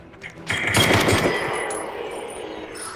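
Submachine gun fire in a video game: a single loud burst of rapid automatic shots opens sharply and then trails off into a long fading echo, with no voices.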